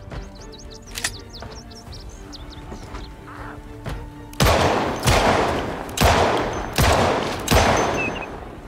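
Gunfire in the zombie survival game Project Zomboid: after quieter ambience with bird-like calls and a few isolated shots, four loud, booming shots ring out about a second apart, each with a decaying tail.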